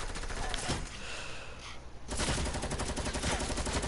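Gunfire rings out in a video game as dense, rapid automatic bursts fill the whole moment, loud and continuous with a brief lull midway, and a voice reacts under the shooting.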